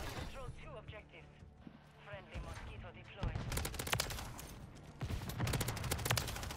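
MTZ 556 rifle fire in Call of Duty MW3, shooting through a wall; someone talks over game sounds, then rapid bursts of loud gunshots follow in quick succession.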